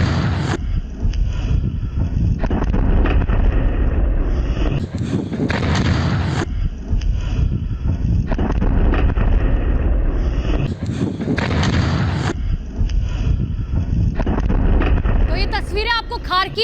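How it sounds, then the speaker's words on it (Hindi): Explosions in Kharkiv sound from afar as repeated heavy booms and rumbling bursts, several in a row amid wind buffeting on the microphone, with a voice briefly audible near the end. "और जोरदार धमाके की आवाज जो है देखिए आपको साफ तौर पर सुनाई दे रही होगी।"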